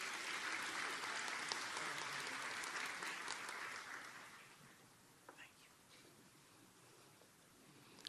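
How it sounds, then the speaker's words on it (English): Audience applause fills a nursing convocation hall, dense and steady for about four seconds, then thins to scattered clapping and quiets with faint background stirring. "Could we give her a round of applause as she comes this way?"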